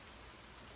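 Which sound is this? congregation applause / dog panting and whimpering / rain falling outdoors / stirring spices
rain falling outdoors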